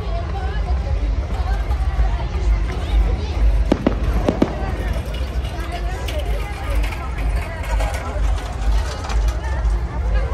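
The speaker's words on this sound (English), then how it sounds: "You see the fireworks around the park." Fireworks pop and crackle in the distance at Disneyland, with a few sharper bangs midway, over a steady murmur of crowd chatter.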